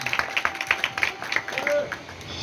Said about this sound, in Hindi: आपकी जोरदार तालियों में, जोरदार तालियों के साथ खुदा के खादिम को दावत देंगे।